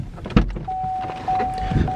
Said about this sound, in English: Just beeping because I've left the key in it